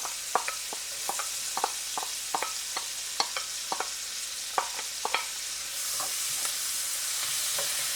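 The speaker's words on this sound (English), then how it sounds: "I just like to saute my onions in butter" Onions sautéing in butter in one pan, a soft steady sizzle punctuated by a rapid series of sharp spatula taps and scrapes, with the hiss growing fuller toward the end.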